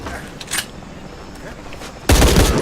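Gunfire in Shadow of the Tomb Raider, a couple of distant muffled shots followed by a loud, close burst of fire at the end, set against a low combat ambience.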